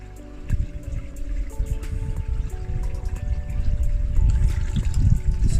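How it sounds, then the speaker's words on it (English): Water from a koi pond waterfall, switched back on after the filter was cleaned, runs in a steady close trickling splash that holds even and continuous throughout. "I'll switch it back on, and you can see the waterfall running again"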